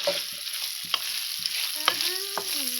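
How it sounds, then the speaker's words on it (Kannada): Chicken frying on a flat tava, a constant bright sizzle of hot oil punctuated by sharp scraping and clinking strokes of a spatula stirring the pieces, close and clear with no voices. "ನಾನು ಇದನ್ನ ಚೆನ್ನಾಗಿ ಫ್ರೈ ಮಾಡ್ತಾ ಇದ್ದೀನಿ"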